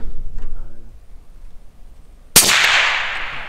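A single sharp, loud long-range rifle shot cracks out after a quiet stretch, followed by a decaying broadband report and echo trailing off.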